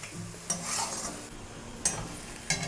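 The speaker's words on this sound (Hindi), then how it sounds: "और मिक्स करने के बाद इसे बस 1-आध मिनट तक और भूनेंगे" Potato and broad bean curry mixed with amchur and peanut powder fries in a pan, giving a soft steady sizzle with a few sharp spoon scrapes and clinks against the pan.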